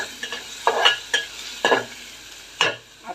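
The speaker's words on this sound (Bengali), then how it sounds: "আমি কড়াইতে তেল দিয়ে দিলাম। এই দেখেন, দিয়ে দিলাম পেঁয়াজ এবং হলুদ রসুন কুচি" Onion, turmeric and chopped garlic dropped into hot oil in a wok, sizzling and frying with several sharp stirring scrapes in an irregular rhythm, close and clear, with no voices.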